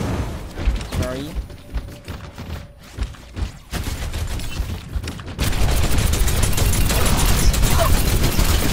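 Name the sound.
gunfire from shots in the video game Overwatch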